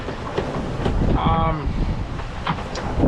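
Steady wind gusts across the microphone on a sailboat at sea off Halifax in a freshening southeast breeze, a continuous rushing roar with bumpy surges and faint water noise beneath.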